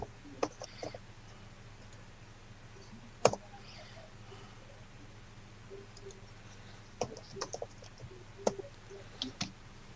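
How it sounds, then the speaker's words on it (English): Sparse keyboard key clicks in a quiet room, a few isolated taps early, then small bursts of clicking later, soft and close. "Sorry, typing."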